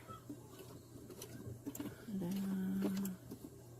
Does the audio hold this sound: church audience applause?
no